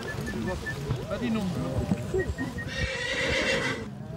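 Horses whinny and snort nearby while hooves clop on the ground, with people talking over them and a rushing, splashing noise toward the end.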